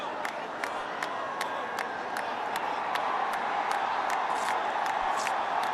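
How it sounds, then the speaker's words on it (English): Large, noisy crowd in a Ranchi cricket stadium during an India vs Australia T20 match, a steady roar of many voices with scattered shouts, swelling slightly louder midway and holding at a constant distant level throughout. "Big crowd, and needless to say, noisy crowd here in Ranchi"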